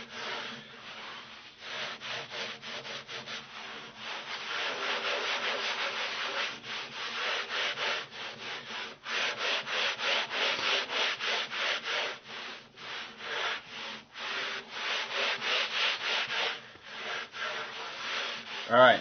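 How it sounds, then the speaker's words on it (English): Rhythmic scrubbing of old Tolex amp covering, worked in circular strokes with a brush or pad, a steady series of close, raspy rubbing swishes that speed up and grow louder as more pressure is applied. "So now I'm going to start applying a little bit more pressure. Keep going in a circular motion."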